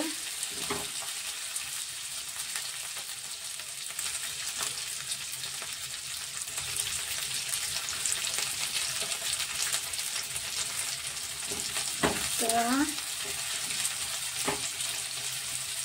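Slit green chillies fry in a pan for restaurant-style chili paneer, a continuous close sizzle with occasional knocks and scrapes from stirring, no one speaking.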